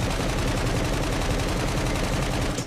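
Sustained rifle fire in the open-world prison game SCUM, a loud continuous stream of rapid shots at a steady fast rhythm throughout, close and dominant, cutting off at the end.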